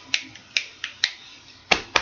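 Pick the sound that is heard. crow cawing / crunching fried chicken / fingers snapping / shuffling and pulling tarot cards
fingers snapping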